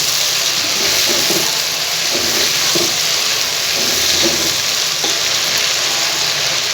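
Chicken macaroni being stirred and tossed in a hot pan with chili and soy sauce, a loud constant sizzle with intermittent scraping stir strokes up close.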